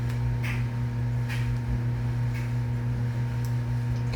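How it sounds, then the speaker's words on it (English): A steady low mechanical hum and drone of a washing machine running nearby, with faint periodic ticks over it and no talking. "Sorry if y'all could hear my washing machine in the background."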